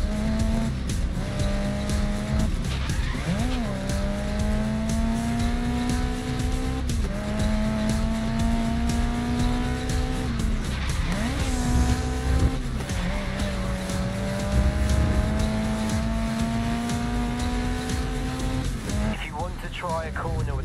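Race car engine in Grid Legends on Xbox Series S, a loud sustained drone rising through gears with repeated shift dips, tyre squeal and skidding throughout, with brief talk over it.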